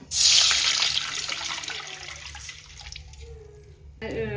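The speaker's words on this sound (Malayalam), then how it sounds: "ഇതിൽ ഒരു കപ്പ് വെള്ളം കൂടി വീത്തി കൊടുക്കാം." A cup of water poured into a hot pan with oil and mustard seeds for Maggi noodles: a loud splashing hiss at the start that fades into a gentler bubbling, with a voice briefly at the end.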